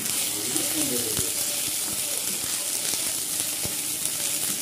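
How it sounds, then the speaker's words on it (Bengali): Steady sizzling of ginger garlic paste frying in hot oil, a constant crackling hiss with a few faint utensil taps. "এবারে রসুন বাটা, আদা রসুন বাটা দেবো।"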